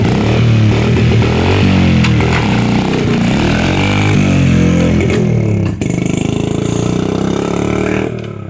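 A dirt bike engine roars continuously and loudly while being ridden, its pitch rising and falling as the throttle is worked.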